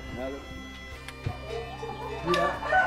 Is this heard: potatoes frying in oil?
no